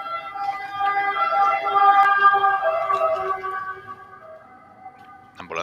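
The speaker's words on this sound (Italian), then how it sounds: "ambulanza passata." An ambulance siren wails loudly as it passes by nearby, its rising and falling tone fading as the vehicle moves away over about five seconds.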